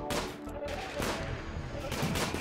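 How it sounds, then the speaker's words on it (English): Gunfire erupts in a desert colony-building video game, a few sharp cracking shots close together over a dense, noisy game soundscape. "And it's just two gunshots. And they're beginning their assault."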